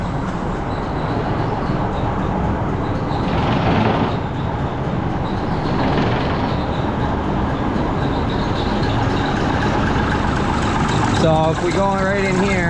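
A 1974 Mack R Model truck diesel engine idles steadily and close, set too low after a no-start repair, with someone talking over the rumble throughout.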